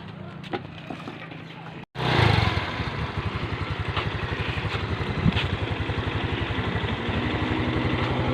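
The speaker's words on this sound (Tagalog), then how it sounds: "Pandar muna ako ng motor" A motorcycle engine starts after a brief quiet and settles into a close, steady, rapidly pulsing idle.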